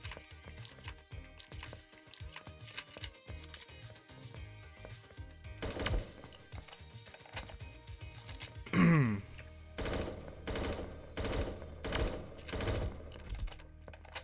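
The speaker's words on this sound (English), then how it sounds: "I'm shooting at Westrum right now." Gunfire rattles in the 1v1.LOL battle royale video game, with rapid bursts of shots and clicky key-like taps over a low background, growing denser and louder in the second half.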